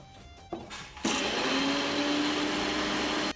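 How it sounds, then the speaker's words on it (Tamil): A mixer grinder grinding sautéed masala, starting with a brief burst then roaring up into a loud, steady whirring hum that runs continuously until it cuts off at the end. "இப்போது நம்ம அந்த வதக்கி வச்ச மசாலா எல்லாத்தையும் நான் அரைச்சி எடுத்துக்கிறேன்."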